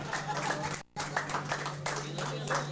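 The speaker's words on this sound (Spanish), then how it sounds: "Den los aplausos, por favor." Guests at a wedding toast applaud in a steady wash of clapping, broken by a brief gap, with voices mixed in and a low hum running underneath.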